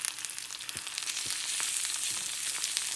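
Lamb frying in a pan with mushrooms and olives gives a steady, close sizzle, a bright continuous hiss broken by a few soft clicks.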